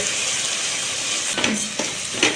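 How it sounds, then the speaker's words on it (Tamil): Rice roasting in ghee in a pan gives a steady soft sizzle with a few louder scraping stirs toward the end, close by and without talk. "நம்ம இனி நெய்யில் இந்த அரிசியை நல்லா வறுக்கணும்."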